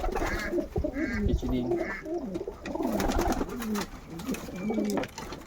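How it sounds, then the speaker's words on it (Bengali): Adult red pigeons coo softly in a loft with other birds around them. Someone speaks over the cooing. "দেখো, যেটি আমার ধাড়ি লাল, ধাড়ি পায়রা।"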